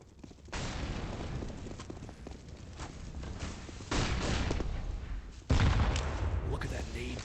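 Grenade blasts and gunfire in a Counter-Strike match on the Overpass map, several booming explosions at intervals over continuous gameplay noise, with commentators talking throughout.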